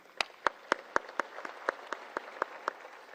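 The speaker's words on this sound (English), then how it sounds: "Please join me to clap for them." Sparse audience claps at the Federal Democratic Republic of Ethiopia government's session at an ILO labour-based practitioners conference in Addis Ababa, about a dozen distinct, evenly spaced hand claps, fairly faint and with no talking.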